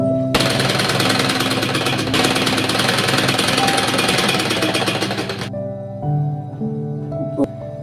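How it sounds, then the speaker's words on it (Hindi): Sewing machine stitching folded fabric for a baby halter neck top: a loud, fast, steady mechanical chatter that runs continuously, then stops and restarts in shorter bursts near the end. "इस तरह से करके सिलाई लगा लेंगे"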